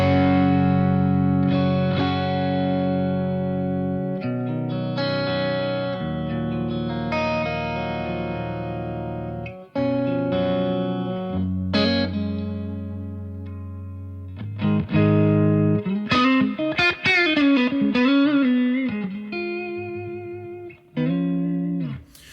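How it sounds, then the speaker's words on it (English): An electric guitar with a slight crunch runs through a BOSS MD-200 chorus effect set at 12 o'clock, playing sustained chords and then a bendy, warbling lead line. "Okay, so the first effect we're starting with is going to be chorus at 12 o'clock."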